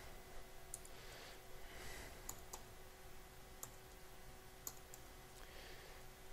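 Someone types on a computer keyboard while entering a file's data in a text editor, producing sparse, irregular clicks and key taps, quiet and close, with no talking.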